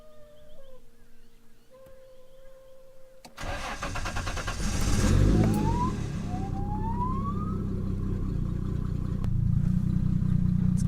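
A drift car left sitting outdoors for months cranks and fires up after a quiet stretch of about three seconds, then revs hard and settles into a loud, rough, sustained run close by, with rising whine sweeps.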